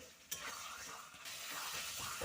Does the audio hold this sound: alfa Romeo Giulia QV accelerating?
no